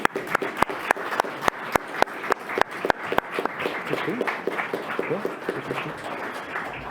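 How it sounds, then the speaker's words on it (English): A second round of audience applause at a European summit in Prague opens with loud, distinct individual claps, then thickens into a softer, blended patter as the clapping continues, with faint murmuring voices underneath. "So you deserve a second round of applause."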